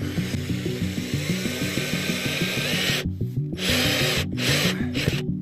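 A power screwdriver drives screws to fix a ladder onto the roof of a renovated Ford camper, a loud, close, steady whirring with a pulsing rhythm that cuts off briefly a few times near the end.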